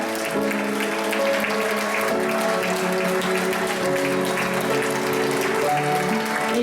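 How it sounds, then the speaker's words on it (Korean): Steady crowd applause at a wedding continues under bridal entrance music with sustained tones, a dense wash of clapping from many people throughout. "조금 더 뜨거운 박수로 끝까지"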